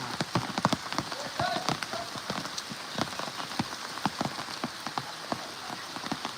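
Rain pours down steadily on a Konkan village, with sharp irregular patters of drops striking nearby surfaces over a constant wet hiss.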